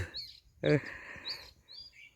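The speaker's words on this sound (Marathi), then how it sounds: "पक्षी बोंबटून सांगता सांजावला रे अजून किती वेळ राहतं" Faint bird chirps and calls at dusk scattered through quiet surroundings in a cashew orchard, with a brief louder burst of sound in the middle.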